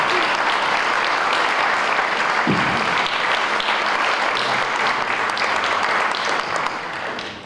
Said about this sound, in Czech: Prosím tedy ještě jednou velký potlesk pro oceněného Jiřího Albrechta.